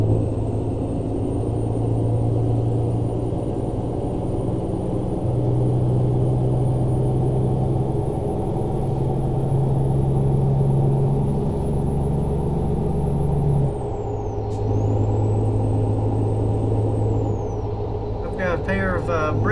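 Heavy truck engine in American Truck Simulator droning steadily as it builds speed on an Oregon road, a low continuous rumble with gear-change dips near the end, with talk over it.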